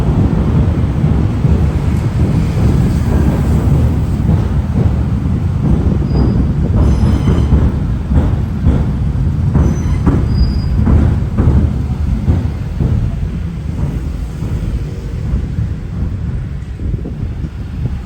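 A train rumbling across Hungerford Railway Bridge toward Charing Cross in London, heavy continuous low roar of wheels and carriages, close and loud throughout, with faint squeals and wind buffeting the microphone.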